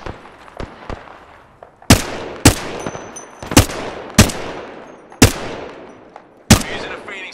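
An enemy fires on the player in the battle-royale game Apex Legends. A few quieter shots come first, then about six loud, sharp gunshots ring out at irregular intervals, each ending in a short decaying tail.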